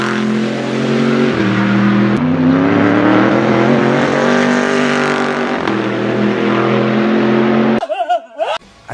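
A Chevrolet Camaro race car engine roars loudly and close, with sustained high revs and shifting pitch across several gear changes before cutting off abruptly near the end.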